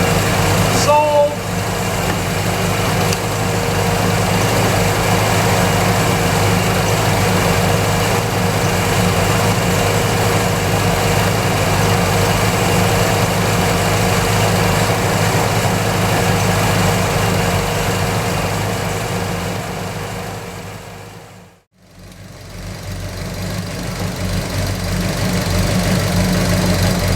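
A Pontiac GTO V8 engine idles with a new Powermaster alternator fitted, a steady, continuous rumbling drone with a slight knock that fades out briefly near the end before resuming.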